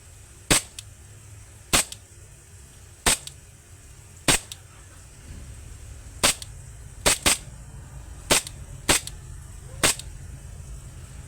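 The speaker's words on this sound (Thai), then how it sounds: "ปกติผม ก็งางนกก็ยิงได้เลยครับ ได้วันนี้ลองขึ้นลำดู" A 1911 gas blowback airsoft pistol is racked and fired, giving nine or so sharp, loud cracking shots at uneven intervals, some in quick pairs, over a low steady background hum with no talking.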